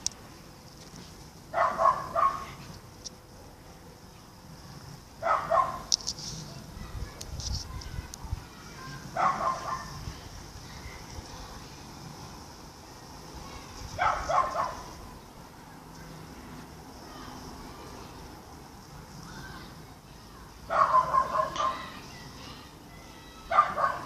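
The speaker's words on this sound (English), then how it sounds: "Two dogs playing together." Two dogs, a Cavachon and a Cavapoo, romp nearby, with recurring bursts of yips, growls and play barks separated by quieter scuffling, occasionally a soft whine.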